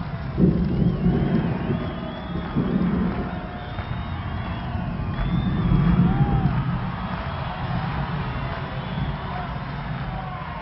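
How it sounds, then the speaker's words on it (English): A crowd of Dremora cheers at a gladiatorial arena in the Elder Scrolls Online video game, a steady distant roar of many voices with occasional whoops swelling midway, heard under a continuous wash of game ambience. "Dremora were cheering on, the guys getting all murdered up."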